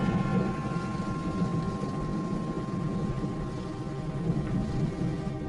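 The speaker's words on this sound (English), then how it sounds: "thunder begins to reverberate around the airport" Thunder reverberating around an airport at dusk, a continuous deep rumbling roar that fills the whole stretch evenly, heard at a distance with no voices.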